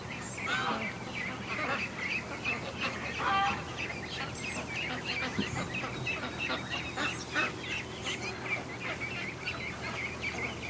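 Ducks wandering around a pen keep up a busy chorus of quacks and honks, close and fairly loud, with a faint voice or two in the background.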